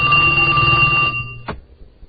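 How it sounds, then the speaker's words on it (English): A telephone hotline rings loudly with a single electronic bell-like ring that cuts off abruptly, followed by a short click and near silence. "Ain't that damn phone ringing night and day."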